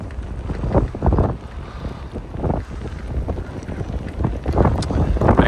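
Steady wind buffeting a microphone while moving through Olympic Park toward the seafront in Adler on a warm day, a continuous low rumbling roar with gusty swells, loud and close throughout.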